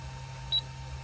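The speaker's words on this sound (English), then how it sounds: "And you'll hear that it beeped at me." A single short, high electronic beep from a camera confirming focus, quiet and close, over a faint steady hum.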